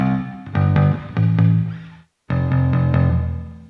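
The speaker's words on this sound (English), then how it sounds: "We're getting a very kind of tinny reverb." Bass guitar notes ringing out through a Boss RV-5 reverb pedal with a short, boxy, tinny room reverb, played in two phrases separated by a brief silence, no talking.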